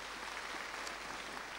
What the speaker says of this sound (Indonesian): Boleh tepuk tangan dulu yang meriah.